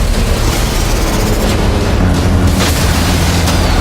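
Shells from a warship's main guns bursting in the sea as anti-aircraft fire, in World of Warships: a dense, continuous roar of booms and rumbling detonations, loud and close throughout, with no clear gaps between blasts.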